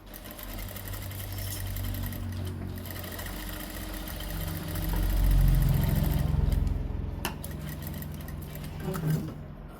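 A sewing machine stitches pieces of a blouse in a tailoring shop, its motor whirring steadily at close range and briefly speeding up and growing louder in the middle before easing off.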